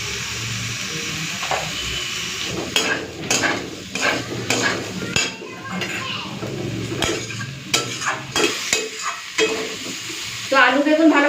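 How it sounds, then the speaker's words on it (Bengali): Potato and eggplant pieces frying in fish oil with salt and turmeric, sizzling steadily while a spatula scrapes and stirs them in bursts against the pan, close and loud. "চলুন এই আলু বেগুনটাকে একটুখানি ভেজে নিতে হবে"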